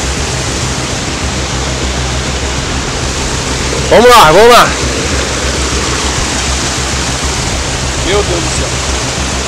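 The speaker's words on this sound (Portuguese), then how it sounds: "Olha a correnteza que tá." A strong river current rushes through the Amazon jungle as a loud, constant roar of churning water, while people briefly talk over it.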